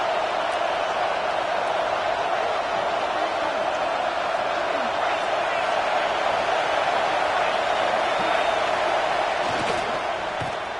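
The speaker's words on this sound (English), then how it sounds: "The crowd getting behind this defense as they try to get a stop in the red zone." Stadium crowd at a football game roaring steadily behind the defense during a red zone stand, a dense, continuous wall of noise with talk over it.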